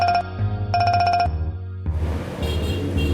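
A mobile phone ringtone plays loud and close, a melodic electronic tune in repeating chimed phrases that gives way to busier music-like sound later on, with no speech.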